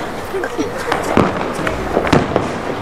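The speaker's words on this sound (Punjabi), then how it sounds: "ਪਟਾਕੇ ਤੇ ਪਟਾਕਾ ਠਾ ਪਟਾਕਾ" Diwali firecrackers burst among family and neighbours, several sharp cracks scattered over a few seconds against a noisy festive background, with people talking throughout.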